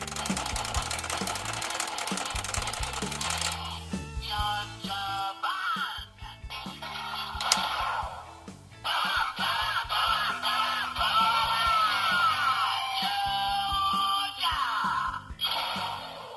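A Zyuohger Sentai Gear candy toy plays electronic animal sound effects and jingles, bright chirpy tones in several separate bursts with short pauses between them, heard close and fairly loud.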